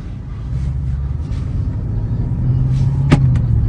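A 730 hp Audi RS7 accelerates from inside the cabin, its engine a deep, steady rumble that builds gradually, with a brief sharp shift blip near the end.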